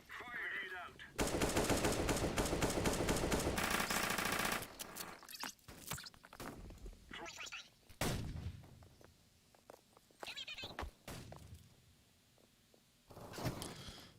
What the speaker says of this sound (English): The guy's literally shooting at you.